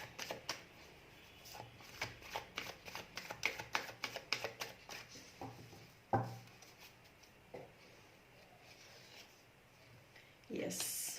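Tarot cards are shuffled and riffled in quick, papery bursts that cluster densely early on and then thin to scattered taps and slaps, close and fairly quiet, with a few sharper handling knocks.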